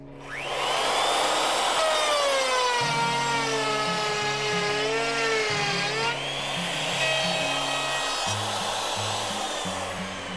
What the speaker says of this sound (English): Turn on the machine right here on the top, the red button, and then I'm going to lift it all the way through the board